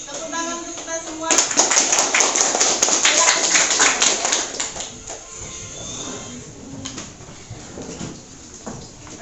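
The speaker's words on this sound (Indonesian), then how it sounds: "Tepuk tangan untuk kita semua." A group of students claps together in a school classroom, a burst of dense clapping that starts abruptly, stays loud for a few seconds and then thins out, with a voice and room noise around it.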